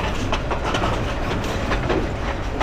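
A Bangladeshi train rattles and clatters along the track at speed, a loud, continuous rumble with rhythmic clicking of wheels over rail joints, heard close from on board with no speech.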